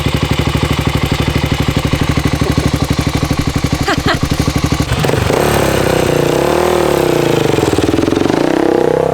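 A Honda XR 400 motorcycle engine runs close by, ticking over at a steady rapid idle before revving up and holding higher, rising and falling revs.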